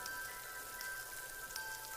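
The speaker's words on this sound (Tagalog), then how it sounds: "Ilang araw nang umuulan," Steady rain falls on a rural home, a constant close hiss of drops striking surfaces, with no voices.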